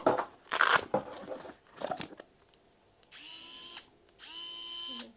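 A DNIPRO-M cordless screwdriver whirs in two short bursts, spinning one way and then the other, after some rustling and handling noises at the start.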